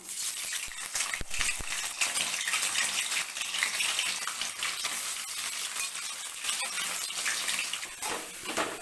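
Soya chunks (meal maker), squeezed of water, sizzle in hot oil in a kadai for a tomato soya curry: a steady, close crackling hiss with a few stirring scrapes, and no talking.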